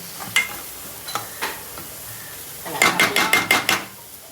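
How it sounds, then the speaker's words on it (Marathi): Prawn and fish masala with coriander being stirred in a pan, a few scattered scrapes followed by a quick run of five or six rhythmic spoon strokes against the metal. "आता छान मी हे हलवून घेते"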